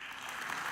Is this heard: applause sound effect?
yes